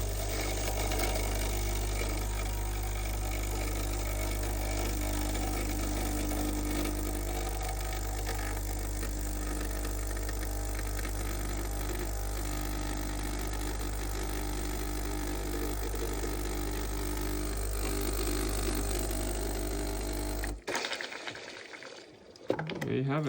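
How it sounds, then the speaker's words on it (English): A failing pump in a Breville Dual Boiler BES900 espresso machine drones with a steady mechanical buzz and watery gurgle for about twenty seconds, then stops abruptly, leaving near quiet. "That's the pump issue."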